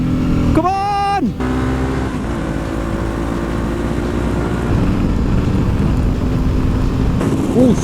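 Royal Enfield motorcycles riding at speed on a group social ride, a loud continuous engine drone with wind rush and a brief rising engine whine early on.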